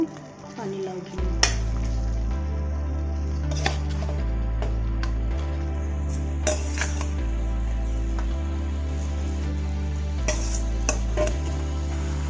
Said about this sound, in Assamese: তেতিয়া মই ইয়াত পেলাই দিম বইল কৰি লোৱা আলু আৰু পানীলাওখিনি।